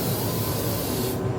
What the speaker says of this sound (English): as I'm spraying that, making sure that the tracks are covered right here and right here